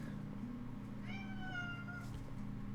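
A cat meows once in a drawn-out, rising and falling call, fairly clear over a steady low hum, with no talk.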